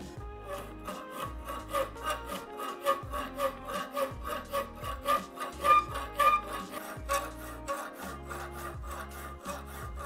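A hand file rasps back and forth on a metal bicycle brake lever in a framebuilding workshop, close and steady, with regular strokes roughly every third of a second that grow slightly louder midway.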